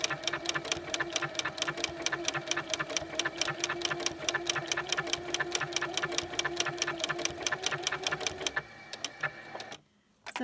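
A sewing machine stitching around a fusible applique butterfly wing on a quilt block, a fast, regular mechanical clatter running steadily for several seconds before slowing and stopping briefly near the end.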